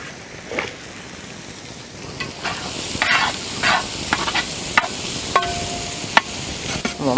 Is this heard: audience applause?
no